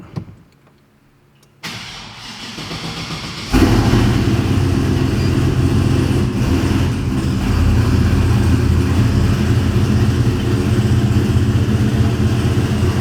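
A turbocharged Chevrolet Silverado pickup on E85 cranks briefly, then catches and fires into a loud, rough idle that settles into a steady, close-up rumble with slight rises in revs.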